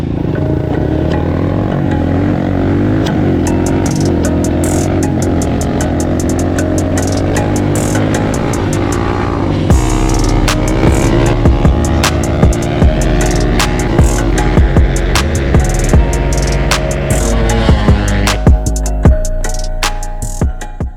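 A motorcycle engine revs hard and holds a high, strained drone while the rider pulls a 110 km/h knee knocker wheelie, loud and close with wind rush and rattling clatter throughout.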